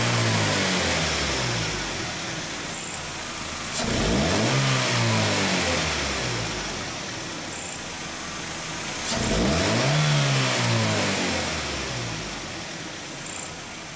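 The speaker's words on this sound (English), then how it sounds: "now we're just gonna do a couple of snap throttles and see what it looks like" Ford Expedition engine under diagnosis for a lean bank 1 condition, revved in two sharp snap-throttle bursts that rise and fall back to a steady idle, close and loud with no talking.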